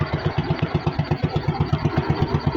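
An engine runs with a fast, regular chugging pulse, loud and steady throughout, with no talking.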